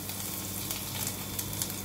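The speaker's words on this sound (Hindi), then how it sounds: "अब हमारा राई जब गर्म हो गया, चटक गया" Mustard seeds tempering in hot oil in a kadai, a steady close sizzle with small scattered pops and crackles running throughout, no voices over it.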